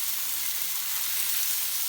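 Beef and portobello mushrooms sizzle steadily in a frying pan while being stirred, a continuous close hiss with no voices.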